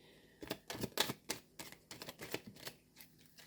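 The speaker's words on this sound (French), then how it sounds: "je vais recharger les cartes sur la fleur de vie. Voilà, donc on va les mélanger." Oracle cards riffled and shuffled by hand in a quick series of crisp, close flicks and slaps, fading into lighter taps with no talking.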